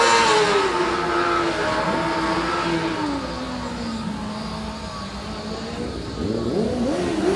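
A student formula racing car engine, just started at an endurance event, runs and revs, its pitch rising and falling with a throaty roar that stays loud throughout, and nobody speaks.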